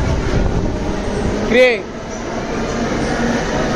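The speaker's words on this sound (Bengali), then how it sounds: "মেট্রো এসছে।" A Kolkata metro train pulls into the station with a steady rumble, then lets out a brief, wavering high whine near the middle before settling back to a low hum, with muffled voices underneath.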